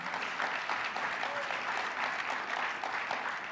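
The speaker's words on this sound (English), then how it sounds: "So a big round of applause to Nancy." Audience applause at an awards ceremony, a steady dense wash of clapping sustained throughout at even loudness with no talk over it.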